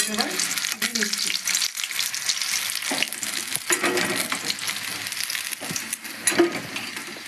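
Chicken pakoras deep-frying in oil over low to medium heat, a continuous crackling sizzle with occasional louder pops and faint stirring, no talk.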